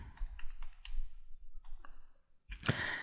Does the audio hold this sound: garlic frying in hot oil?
no